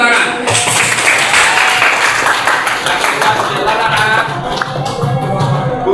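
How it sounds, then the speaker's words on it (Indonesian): Classroom applause from students clapping together after group results are announced, a dense steady patter of many hands filling the room for several seconds. "Kasih tepuk tangan."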